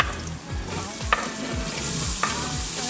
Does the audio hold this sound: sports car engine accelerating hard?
no